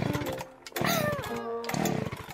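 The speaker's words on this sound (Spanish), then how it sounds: "¡Listo! Ahora puedo sacar la motosierra." A chainsaw revs loudly and close in short bursts, its whining pitch rising and falling with the throttle, with harsh mechanical rattle between surges.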